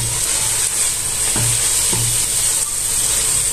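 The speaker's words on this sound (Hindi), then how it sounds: "इन वेजिटेबल्स को हम तकरीबन 3 से 4 मिनट के लिए सौते करेंगे" Chopped vegetables with capsicum and finely cut chillies sauté in a hot pan for chicken egg fried rice, giving off a steady, close, even sizzle with no talking.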